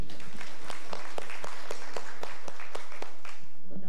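An audience at a basic Spiritism course lecture applauds a student group with steady, fairly close clapping that carries on throughout, a little uneven in rhythm.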